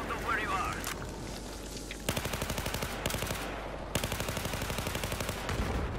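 Automatic gunfire from a weapon in Battlefield 4 during a snowy blizzard battle, rapid bursts of evenly spaced shots starting about a third of the way in and repeating in several runs, loud over a constant wind-like roar, with a voice at the start.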